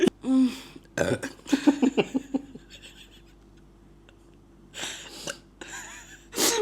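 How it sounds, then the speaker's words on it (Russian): A woman's burp, a short low croak up front followed by a run of bursting belching sounds, then quieter gaps and a few later noisy bursts, with no talk over it. "почему ты в итоге миленько рыгнула, а я выдаю тут"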